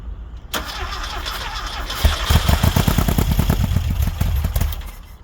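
A Volkswagen Baja Bug hot rod engine cranks and catches, then revs in loud, uneven bursts and settles into a rough, close running idle with no talk over it.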